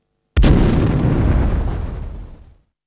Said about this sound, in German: Neben dem maschinellen Streckenvortrieb wird häufig auch gesprengt.